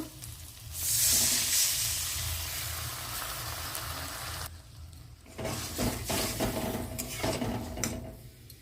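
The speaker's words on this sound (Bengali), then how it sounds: "এবার আমি জল দিয়ে দেব" Water poured into a hot pan of fried okra with turmeric and salt, a loud hissing burst that swells then fades, followed by a pause and renewed sizzling with scattered metallic clinks of utensils.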